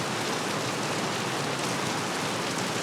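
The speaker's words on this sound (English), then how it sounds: "listening to the patter of the rain on the tent canvas was extremely relaxing" Rain patters steadily on tent canvas during a persistent tropical shower on São Tomé and Príncipe, an even, dense hiss of drops without pause, close and moderately loud, with no voices.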